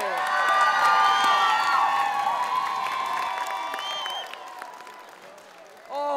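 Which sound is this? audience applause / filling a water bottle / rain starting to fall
audience applause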